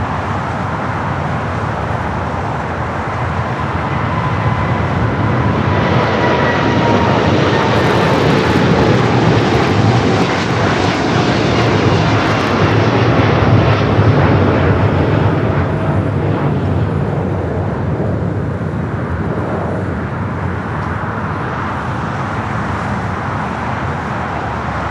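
A jet airliner roars down runway 25 Left at Los Angeles International Airport, a loud, broad rumble that swells over several seconds, peaks mid-way and slowly fades into distant engine noise.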